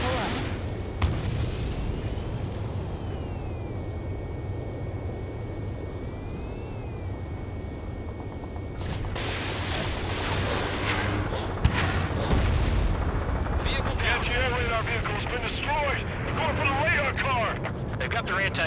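Anti-aircraft gunfire in the Ace Combat 7 video game, a dense continuous barrage of booms and rattling bursts mixed with roaring aircraft, building in intensity toward the end.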